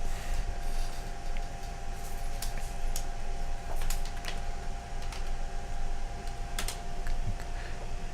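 Someone types a name on a computer keyboard during a Tricaster workshop, a steady run of close, light key clicks over a constant electronic hum with no talking.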